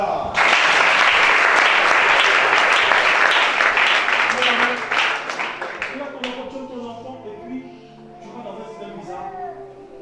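A church congregation at a deliverance service bursts into loud, dense applause that holds for several seconds, then thins into scattered claps as voices and singing rise.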